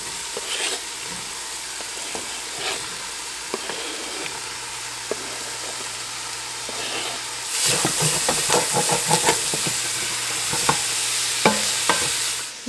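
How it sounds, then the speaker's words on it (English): Meat and vegetables cook in a pot, giving a soft steady sizzle with occasional stirring scrapes that grows louder and busier partway through, close by under a faint hum. "While the meat is still cooking through and those vegetables are softening"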